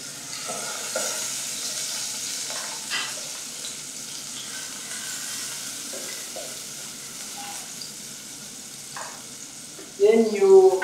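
Onion, garlic and ginger fry in olive oil with a steady soft sizzle, then a louder burst of hissing and stirring breaks out near the end.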